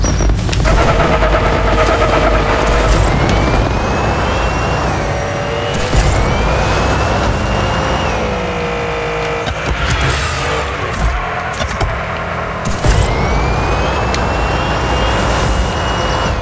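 Toy-like race cars in Hot Wheels Unleashed speed along the track in a continuous loud engine roar with rising and falling whines as they accelerate and pass, dense and unbroken throughout.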